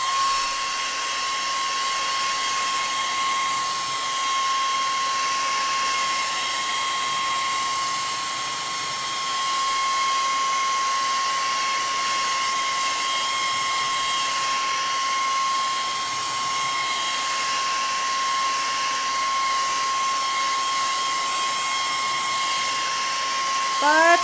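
A hair dryer whirs steadily at close range, blowing air over freshly painted swipe-painted papers in an art studio, a continuous even hum with a high whine and no break.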